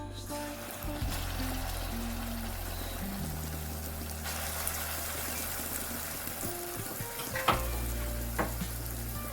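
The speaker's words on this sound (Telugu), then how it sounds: "లో ఫ్లేమ్లో పెట్టుకొని నీట్గా ఇలాగ స్లోగా నీట్గా బాగా తిప్పుకుంటూ అడుగంటకుండా కలుపుకోవాలి." Steady sizzle of masala frying in a pan over a low flame for chicken pickle, with stirring scrapes throughout and soft music underneath.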